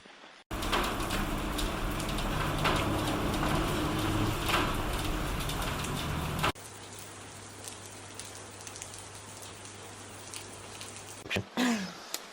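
Heavy rain pours steadily onto montane forest on Mt Kinabalu in Borneo, a loud dense wash for several seconds that then drops abruptly to a softer, quieter patter with a few brief knocks near the end.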